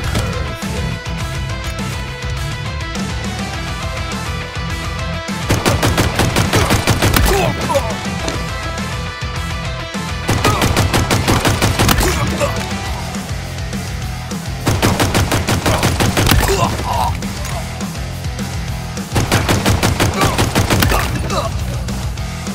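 Sidearm pistol gunfire in the shooter video game Halo Infinite rings out in four loud, rapid bursts of closely spaced shots, separated by short lulls filled with steady game ambience and music.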